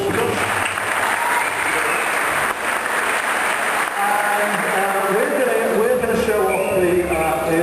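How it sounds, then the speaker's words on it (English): An audience at a GDC stage presentation applauds for a presenter, a dense, sustained round of clapping filling the hall, with a voice speaking over it. "Big round of applause for Josh"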